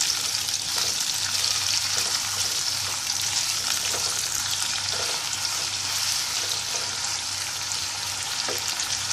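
Radish and other vegetables fry in a pan with a continuous loud sizzle and occasional stirring scrapes, close up and steady with no talking.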